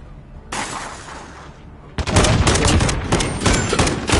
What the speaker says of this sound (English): You're getting shot by two people.